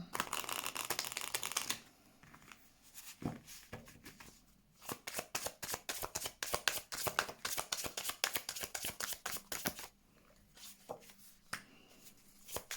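Tarot cards shuffled by hand for a reading: a dense riffling burst at the start, then a long run of quick crisp card flicks and taps, close and alone with no talk.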